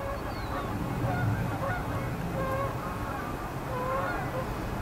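A family of geese honks out on wetlands in the morning, with several short nasal calls scattered through the stretch at moderate distance over a soft, steady outdoor background hum.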